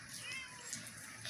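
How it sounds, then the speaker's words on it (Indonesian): A cat gives a short, faint meow that sits against steady background hiss, with brief higher cries near the end. "Gila, itu kucing apa sih?"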